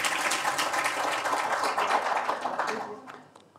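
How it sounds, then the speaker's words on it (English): An audience at a Davos panel on transformations in the Arab world breaks into dense, sustained applause, a steady wash of many hands clapping that fades out over the last second. "I don't know why you applaud"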